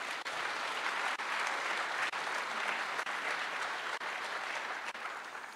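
A large university lecture-hall audience applauds steadily at an aircraft rollout event, a dense, loud wash of many clapping hands that holds evenly throughout without voices.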